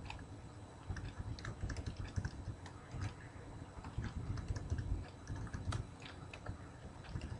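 Rapid, steady typing on a computer keyboard while a short C program is written, the keys clicking close and quiet in an irregular stream throughout, with no voices.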